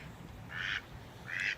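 A duck by a high-running river gives two distinct nasal quacks, close by over a faint background hush.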